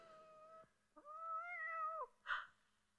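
A person imitates a cat's meow as a signal: two clear, close meows, a short one and then a longer rising-falling one, followed by a brief breathy burst, with quiet around them.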